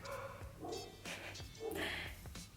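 Several neighbourhood dogs bark together outdoors at mid distance, a run of overlapping barks and yips in irregular bursts.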